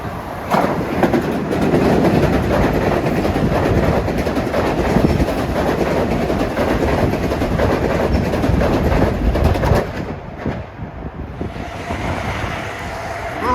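An LIRR commuter train speeds past Woodside station during the evening rush, a loud continuous rumble with rhythmic wheel clatter and wind buffeting that eases off abruptly as the train clears.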